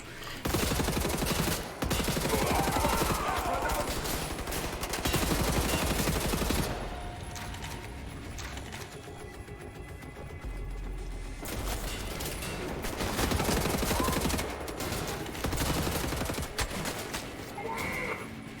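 Akimbo shotguns blasting in Wolfenstein: The New Order, heavy repeated booms packed close together, loud and dense with a brief lull in the middle before the firing picks back up.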